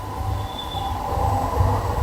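A MEMU passenger train runs along the track, heard from inside as a steady loud rumble and rattle with low wheel thumps and a faint whine, without talk.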